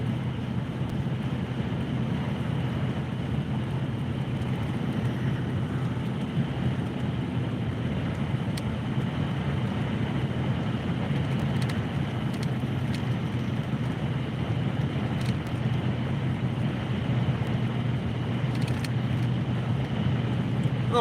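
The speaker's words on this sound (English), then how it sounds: "A little windy." Wind blowing outdoors at a garage, a constant low rumbling gust buffeting the microphone for the full stretch with no voices.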